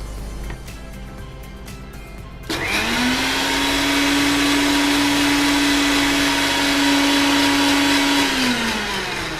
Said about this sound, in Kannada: ಸೊ ಫೈನಲಿ ಇದನ್ನ ಬ್ಲೆಂಡ್ ಮಾಡ್ಕೊಳ್ಳಿ.